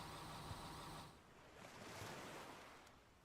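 Ocean water in the video game Eden Crafters, a steady wash of surf and wind heard faintly and continuously, swelling slightly in the middle with no talking over it.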